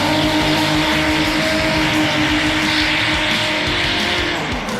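A race car in a French championship round is understeering, its engine droning loud and steady while the front tires scrub and hiss as they slide wide, sustained and close throughout.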